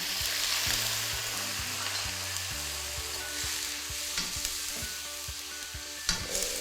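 Shrimp with broccoli, carrot and snow peas stir-frying in a pan with a splash of water, a steady loud sizzle broken by repeated scraping and clanking strokes of the spatula, no voices.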